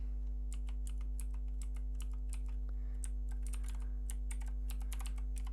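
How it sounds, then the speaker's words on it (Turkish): A password is typed on a computer keyboard in quick bursts of clicky keystrokes with brief pauses, close and fairly faint over a steady electrical hum. "Şifreyi yazıyorum hemen."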